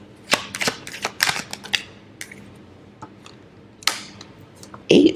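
Crisp, close riffling and snapping of tarot cards being shuffled in a few quick bursts separated by short pauses.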